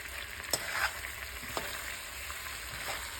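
Noodles stir-fried in a pan with carrots, butter and paste give a soft, steady sizzle close by, with a few light utensil knocks and scrapes against the pan.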